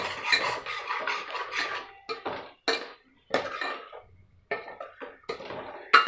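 A spoon scrapes and clatters against a pan while kuzhambu masala powder is stirred in oil, in close, irregular bursts of metallic rasping separated by short pauses.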